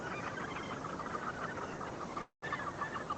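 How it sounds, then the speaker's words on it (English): A gannet colony at Muriwai beach, New Zealand, with a dense, continuous chorus of harsh bird calls that stays loud throughout and breaks off for a brief moment near the end. "In fact, I think a lot of the birds have moved down into this area."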